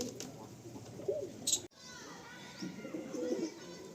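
A Chotiyal pigeon coos in low, throaty bursts at close range, with faint background murmuring and a sharp click partway through.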